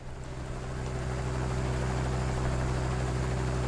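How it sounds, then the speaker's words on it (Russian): Helicopter in the video game Tank Arena Steel Battle, a steady low droning rotor and engine hum that holds constant throughout, moderately loud with no other sounds. "Я думал, вертолет уже какой-то летит."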